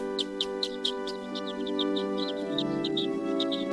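A hen clucks in a steady series of short, repeated calls over a constant background hum.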